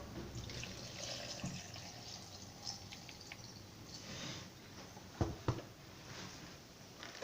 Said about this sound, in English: you add a bit of water.